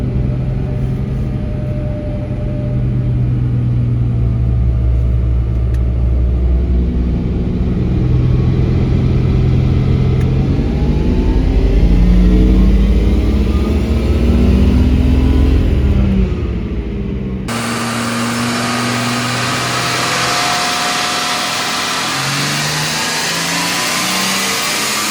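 A turbocharged Ford BA car engine revs hard and loud for a sustained stretch, its pitch climbing and falling through repeated throttle blips before the tone shifts abruptly near the end.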